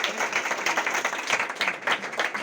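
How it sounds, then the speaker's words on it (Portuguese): A church congregation claps together during worship, a fairly even rhythmic patter of many hands at moderate level, continuing without pause. "Viva Jesus, com as palmas pela glória de Deus"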